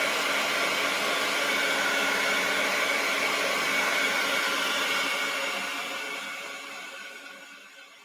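A hair dryer blows steadily and loudly over wet paint in an art journal, a constant close whoosh that eases and fades toward the end.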